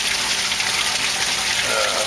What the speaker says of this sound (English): Water goes through the screen, 300 micron screen, and it kicks the poo out.